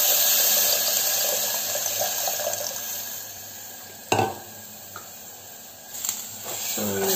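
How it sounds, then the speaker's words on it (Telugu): Tamarind extract pours steadily into a pan while ginger pulusu cooks, a continuous liquid trickle with a couple of brief clanks of the vessel near the end. "మనం చింతపండు పులుసు వేసుకుందాం"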